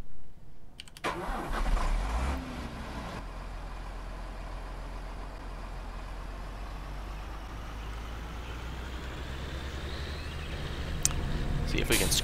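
An MB tractor engine cranks and starts in the farming game Farming Simulator 2013, then settles into a steady, low, even idle that runs on throughout.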